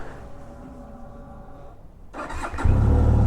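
A Benelli 502C motorcycle engine cranks over briefly, then catches and settles into a loud, close idle with a deep rumble.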